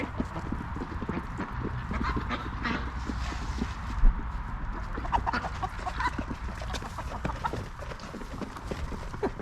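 Chickens and ducks gathered at feeding time in a barn stall, with scattered clucks, scratching and shuffling close by under a steady background hum.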